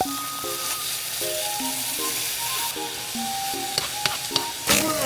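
Drained tofu sizzles in a pan to dry out, a loud and steady hiss close by. Tonal background music plays beneath it, and a few sharp scrapes and taps of a spatula come near the end.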